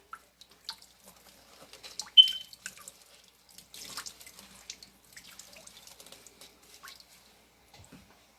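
Sparse trickling and dripping water while Air Jordan 10 and Trunner LX sneakers are cleaned, faint and intermittent with small splashes and drips, one brighter splash near the middle, no talking.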